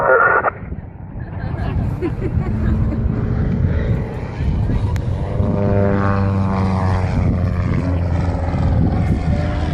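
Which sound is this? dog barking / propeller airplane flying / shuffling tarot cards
propeller airplane flying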